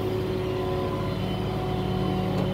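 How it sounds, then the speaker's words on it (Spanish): A damaged 2018 Dodge Challenger runs after starting, its engine holding a steady, moderately quiet idle hum with a faint higher whine, continuous throughout with no voices. "Bueno, el carro prende y todo."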